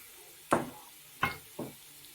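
Tomatoes added to browned garlic in a pan for chicken liver adobo, making three sharp sizzling splashes that each fade into a soft fry, close and otherwise quiet.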